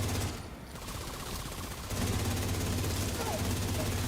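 Automatic gunfire in The Division 2, sustained bursts of shots throughout the Battle for Brooklyn fight at DUMBO Skate Park, growing louder and denser partway through with layered game sound.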